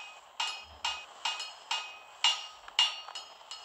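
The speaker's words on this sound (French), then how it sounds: "le dernier coup de marteau a enfin retenti" Hammer strikes on a crystal during an upgrade in the Shakes & Fidget game, about seven bright metallic clinks with ringing tails, evenly spaced and close, with no voices.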